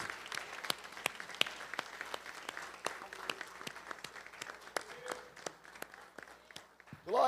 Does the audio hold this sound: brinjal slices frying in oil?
no